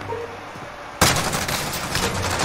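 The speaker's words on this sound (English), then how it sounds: "Of course a sniper's shooting at me." Sniper gunfire in the Call of Duty video game: after a quiet second, a sudden loud burst of shots and crackling fire begins and continues densely to the end.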